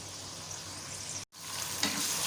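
Whole spices frying in hot oil, a close, even sizzle and crackle with a brief dropout partway, then resuming slightly brighter as something is stirred.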